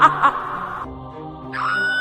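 A woman lets out high, piercing screams in two bursts, a shrill cry at the start and another rising wail near the end, with a brief quieter gap between them.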